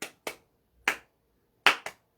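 Rhythmic hand clapping in a two-quick-and-one pattern, five crisp dry claps, close and alone with silence between groups.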